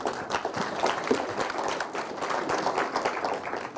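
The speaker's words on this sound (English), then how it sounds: "Round of applause." Audience clapping after a talk on building a private label brand on Amazon, a moderate, fairly distant patter of applause continuing steadily for a few seconds.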